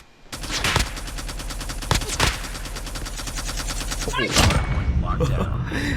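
Sustained rapid automatic fire from a DR-H rifle in Call of Duty Mobile: dense, evenly spaced shots run for about four seconds, with a few louder cracks, then stop and leave game noise.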